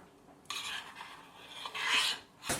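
A spoon scrapes and mixes a thick protein breakfast batter in a bowl, close rasping strokes in uneven bursts, moderately loud, ending with a sharp clink, no talking.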